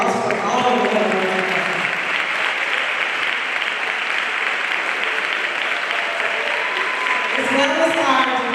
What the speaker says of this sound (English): give this group a hand of applause for all of the hard work